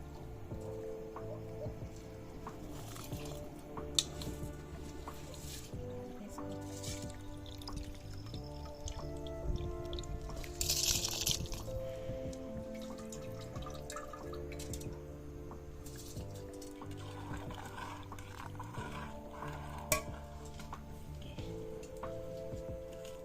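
Rice being washed in water for bagara rice at an outdoor forest cooking spot: soft drips, splashes and squishy sloshing recur in irregular bursts, close and fairly quiet, with faint background sounds.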